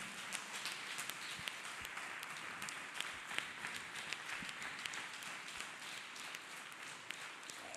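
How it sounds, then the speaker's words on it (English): Church congregation clapping hands together for Jesus during a worship service, a busy, even patter of many hands heard at a moderate distance, holding steady for the whole stretch with no speech over it. "Let us clap hands for Jesus."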